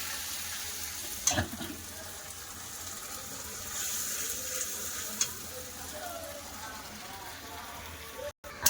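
Ginger, garlic, tomato and spices sauté quietly in a pan, a low faint sizzle broken by a few sharp clinks of a utensil.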